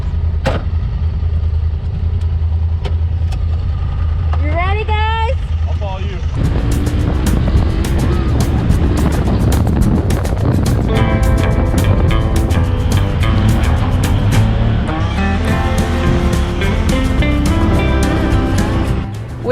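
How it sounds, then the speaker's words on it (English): ATV engines idle and then rev away on an off-road trail at Chicken Corners in Moab, Utah, loud and close with rising engine pitch, while people talk briefly over the motors. "one day we hopped in some ATVs and we went for some high-speed"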